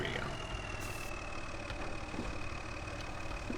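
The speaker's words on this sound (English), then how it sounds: "let's just turn this off because this tractor seems louder for whatever reason to me" A tractor engine idles in Farming Simulator 2013, a steady, continuous mid-to-low drone that stays level throughout with no talk over it.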